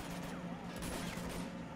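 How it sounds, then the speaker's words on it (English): Gunfire in the Uncharted 2 video game, a dense continuous volley of shots filling the whole stretch at steady loudness, with no talk over it. "You're getting shot at."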